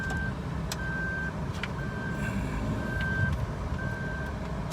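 A 2015 Suzuki Lapin sounds its seatbelt reminder: five evenly spaced, steady electronic beeps at a regular rhythm over a continuous low rumble of engine and road noise inside the car.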